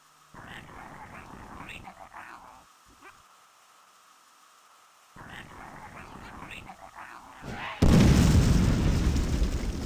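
Casting the Skullstorm offensive spell in the video game Clive Barker's Undying ends in a sudden loud explosive burst that roars and slowly fades, following quieter stretches of talk and whispering.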